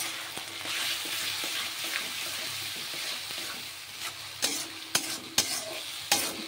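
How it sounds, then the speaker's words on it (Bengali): Onion, garlic and ginger paste frying in a pan for a yogurt chicken curry, a steady sizzle under repeated stirring scrapes, with several louder spatula knocks toward the end. "পেঁয়াজ, রসুন, আদার পেস্টটা দিয়ে দিলাম।"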